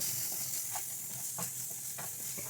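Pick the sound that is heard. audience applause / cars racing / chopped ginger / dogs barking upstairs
chopped ginger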